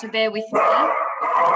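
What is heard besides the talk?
sausage dog (dachshund) barking in the background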